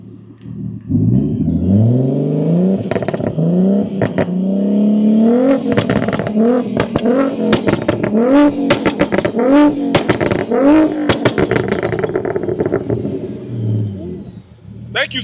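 A single-turbo G8x car with a single-exit exhaust revs hard several times up close, each loud throttle blip climbing and falling in pitch over a steady idle, with brief voices nearby.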